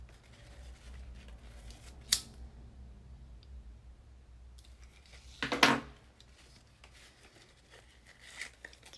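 Scissors snipping through tape while an item is sealed for a back-to-school kit, one crisp close cut early on and a longer, louder cut a few seconds later, with quiet handling in between.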